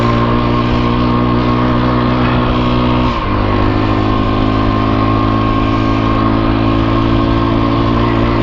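A Husqvarna TE250 dirt bike engine drones loud and close while riding on a hot day, a steady buzzing tone with a brief dip in pitch as the rider shifts, then settling again.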